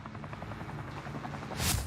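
A helicopter in the video game Warzone thrums with a steady rhythmic rotor chop at moderate loudness, continuous throughout, with a brief burst of sharper noise near the end.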